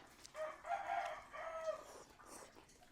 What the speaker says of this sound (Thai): ไก่ฮอน